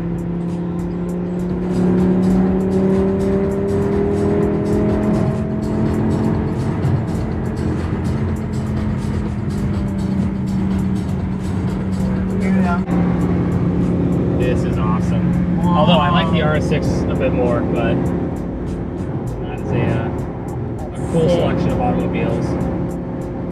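A group of supercars drives together during Monterey Car Week on the Pebble Beach roads, with steady, loud engine drone and shifting tones as the cars roll along, and people talking over the motor noise throughout.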